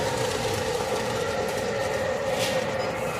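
Model train rolling steadily on its plastic track, a continuous close rumble with a faint whine throughout and no talking.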